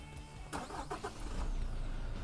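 A 2016 Toyota Fortuner's engine starting: a short starter crank, then the motor catches and settles into a steady, muffled idle heard from inside the cabin.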